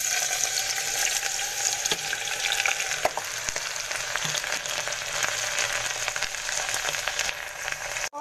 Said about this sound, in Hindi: अब हम इसमें मेथी डाल देंगे जो हमने बॉयल की है।